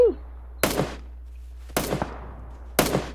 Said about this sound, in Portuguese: Ah, tô tomando tiro.